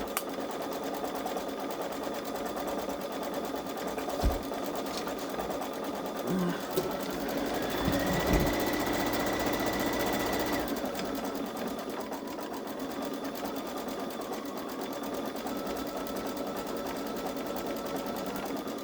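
A Babylock Solaris Vision embroidery machine stitches a design with a steady, fast mechanical whir and hum, with a brief shift in pitch partway through and a faint voice speaking now and then.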